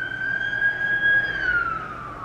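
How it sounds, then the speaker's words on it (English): An ambulance siren sounds steadily and fairly loud, its tone gliding slightly downward as the vehicle passes and fades away. "ambulance."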